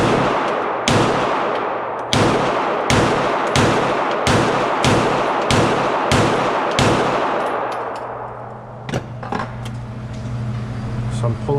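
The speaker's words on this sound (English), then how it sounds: "Shooting the SIG with the tungsten grip, this is quickly becoming one of my favorite guns." A SIG P320 pistol with a tungsten grip fires rapidly, about ten sharp shots in an even cadence, loud and close with echoing tails, then the shooting stops and faint clatter and handling noise follow.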